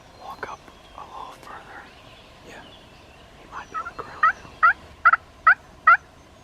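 A wild turkey gobbles during turkey season, about 200 yards off: four or five sharp, loud gobbles come in quick succession near the end, after soft whispering and rustling outdoors.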